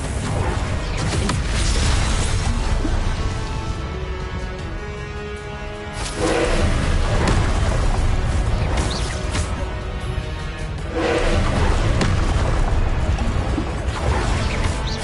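Repeated Confringo blasting spells cast in a wizard video game, loud bursts and crashes arriving in several waves over a continuous roar of game effects.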